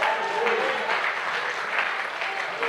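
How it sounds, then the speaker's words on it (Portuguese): A church congregation applauds steadily during a worship service, a dense wash of clapping from many hands that holds evenly for a few seconds at moderate distance, with faint voices mixed in. "Dá para você aplaudir o Senhor?"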